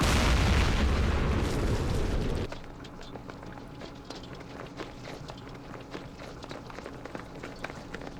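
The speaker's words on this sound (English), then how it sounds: "That mortar wiped that out." Mortar round bursting in a Vietnam war strategy game set at Pleiku in 1968, a loud low rumbling blast that cuts off after two seconds, followed by quieter scattered pops and rustling.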